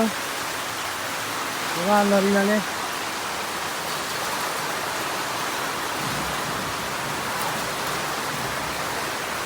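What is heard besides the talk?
rain falling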